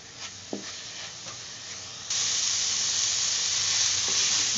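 Minced meat keema for samosa filling sizzling in oil on medium flame, a quiet pan at first, then a loud steady sizzle that swells after a couple of seconds and holds, with no voices.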